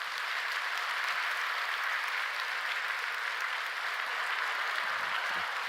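A church congregation at a Friday overnight worship service in Korea breaks into sustained applause, a dense, even roar of many clapping hands that carries through the whole stretch with barely any talk.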